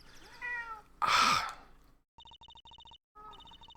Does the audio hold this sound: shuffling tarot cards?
no